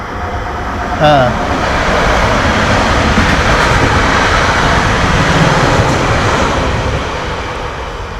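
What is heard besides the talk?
express train passing through a station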